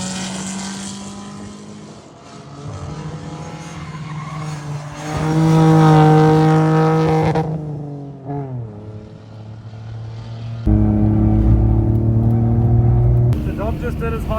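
A BMW E46 Touring runs a hot lap on a race track, its engine rising and falling through gear changes and revving hard, with a voice speaking over the sound.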